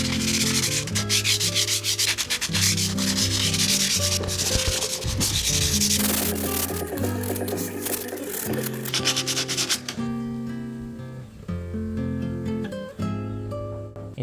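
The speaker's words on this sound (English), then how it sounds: "the most annoying part, which is sanding all of this" Hand sanding of a wooden table while fixing up a countryside gaming room: steady rasping strokes run throughout, partly buried under loud background music.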